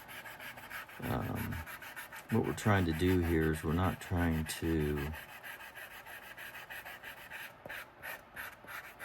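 Sandpaper rasps in quick rhythmic strokes across a leather piece for a handmade trifold wallet, a soft scratchy rubbing heard under someone talking.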